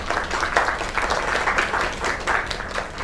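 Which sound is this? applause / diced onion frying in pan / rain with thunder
applause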